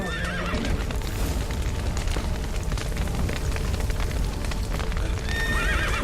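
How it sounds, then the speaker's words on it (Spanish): In The Witcher 3, horses whinny loudly while hooves clip-clop in a busy, steady rhythm, layered over a dense rushing background resembling rain. "Venga. Caballos."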